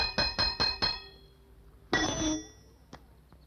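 A small bell rings in four quick, bright strikes, followed by a longer ringing hit and a faint tap, close and fairly loud.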